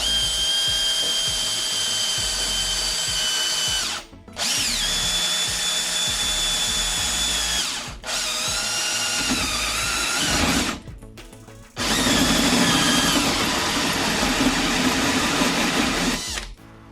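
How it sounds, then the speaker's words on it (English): A power drill whines loudly and steadily in several long bursts into the housing of an Eberspacher Hydronic D5WS heater, pausing briefly between runs, with grinding as the bit bites in. "we will start to drill"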